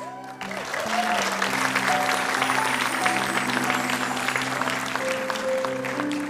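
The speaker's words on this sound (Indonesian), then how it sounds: "mari kita tepuk tangan sekeras-kerasnya untuk semua komedian kita hari ini" A studio audience at an Indonesian comedy talk show applauds the comedians, a sustained, even burst of clapping that starts abruptly and holds loud throughout, with steady background music tones underneath.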